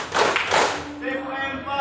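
In a classroom, children clap their hands on cue, a short burst of a few sharp claps at the start, followed by a teacher's voice speaking alone.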